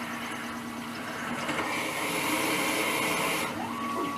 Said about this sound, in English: Cutting steel with the end mill, you don't want to use any coolant.